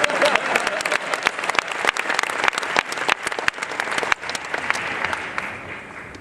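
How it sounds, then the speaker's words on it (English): Enthusiastic audience applause at PAX East with sharp individual claps standing out, tapering off slightly toward the end. "Yes, please applaud him."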